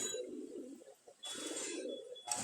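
Pigeons at a pigeon market give soft, low cooing in a few short bursts, fairly quiet and close, with a gap of near silence between calls and no talking.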